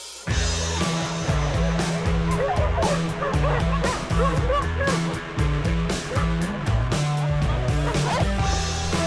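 Many dogs bark at once inside a large shelter housing hundreds of dogs, a loud, dense and continuous chorus of overlapping barks, yips and whimpers close by.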